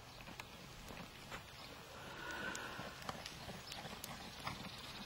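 A horse trotting at a medium trot in a dressage arena, its steady hoofbeats sounding as soft, rhythmic clip-clop at a moderate distance, with no voices.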